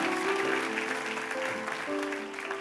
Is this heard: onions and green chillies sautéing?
no